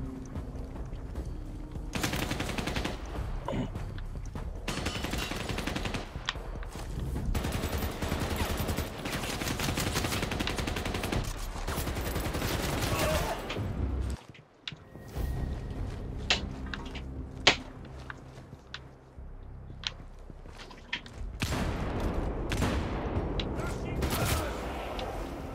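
Rapid gunfire bursts and single shots from the Xbox Series X shooter Crossfire X crackle over a busy game soundscape, with a brief drop to near silence midway before the firing resumes.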